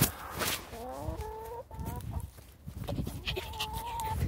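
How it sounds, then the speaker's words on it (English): Chickens cluck and make rising, drawn-out calls close by in short bursts, with quieter gaps and some rustling between them; no one talks. "these chickens act as if I'm their mother, like they chase me"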